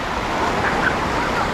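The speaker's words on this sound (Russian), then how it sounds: "Сегодня мы застали волны, что тоже прикольно." Sea waves wash onto a beach in Odesa in a continuous, loud surf hiss, with no voices over the rush of water.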